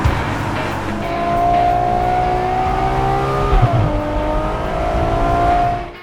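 A Ferrari 812 Superfast V12 engine screams loudly and continuously at high revs, pitch climbing and dipping as it is worked hard, then cutting off at the end.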